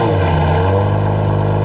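A Lamborghini Murcielago LP640 engine running close by as driving begins: a loud, steady, deep drone with a slight change in pitch partway through and no talk.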